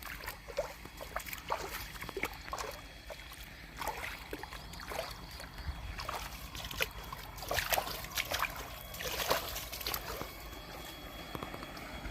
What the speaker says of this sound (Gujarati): વાડામાં તારણ પાણી વાળવાનું ચાલુ કર્યું હે